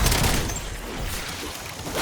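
Pentaburst five-round burst gun firing in Black Ops 4, a dense, loud wash of rapid gunfire and booming impacts that runs continuously without a break, with no talk.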